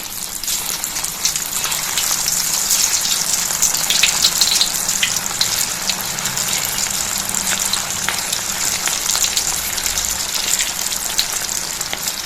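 Bottle gourd (lauki) kofta balls sizzling in hot oil over medium heat; a steady, close, bright crackle and hiss running throughout with no talk.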